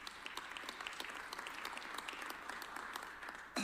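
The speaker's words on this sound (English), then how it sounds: "Give Scott a huge round of applause." An audience applauds steadily for the producer Scott Merkin, a dense, even wash of many hands clapping at moderate distance with no talk over it.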